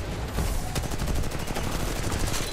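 Rapid automatic gunfire from the shooter game Titanfall 2, a dense, continuous burst of shots with repeated sharp cracks running loud and close for the whole stretch, with no voices.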